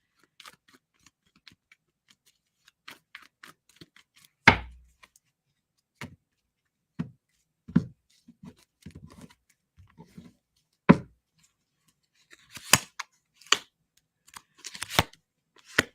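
Playing cards pulled from a deck one at a time: sparse, quiet papery snaps and flicks spaced across a near-silent room, with a few sharper card slaps toward the end.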